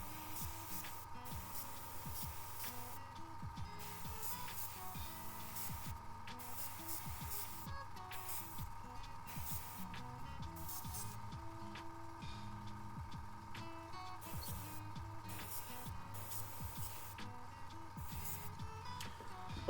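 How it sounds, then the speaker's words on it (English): An airbrush sprays paint onto a Kingdom Death miniature with a continuous fine hiss, punctuated by quick rhythmic pulses of heavier spray, close and steady throughout with no voices. "let's pause the airbrush"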